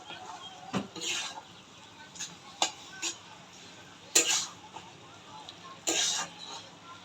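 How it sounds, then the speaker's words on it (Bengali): Food is stirred in a cooking pot as the gravy dries down, giving intermittent scraping and metallic clinks of a spoon against the pot between quiet stretches, with some faint background noise. "এবার আমাদেরকে এগুলো নাড়তে হবে কিছুক্ষণ"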